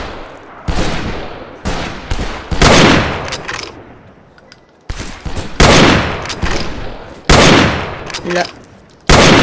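In a Far West video game, a series of about ten sharp, loud sniper gunshots rings out, each with a decaying tail and irregular gaps between them, with a brief spoken word among them.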